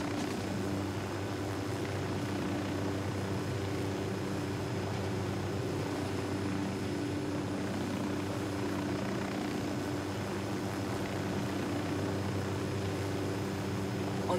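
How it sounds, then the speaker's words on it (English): A deployed drone in the video game Ghost Recon Wildlands whirs with a steady, droning rotor hum that holds at an even volume throughout, with no voices over it. "Deploying drone."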